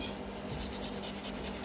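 Nail file shaping the free edge of a plastic gel nail tip, giving steady continuous scratchy rubbing strokes, close and fairly quiet, with no talking.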